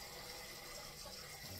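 Tap water runs steadily while chitterlings are being prepared, a faint continuous rushing stream into a sink with no talk.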